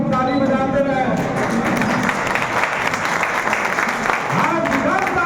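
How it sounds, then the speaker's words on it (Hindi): A crowd at a BJP party joining event claps in dense, continuous applause, loud and close, with voices speaking and calling out over the clapping. "आप लोगों से आग्रह कि आपको ताली बजाते रहे"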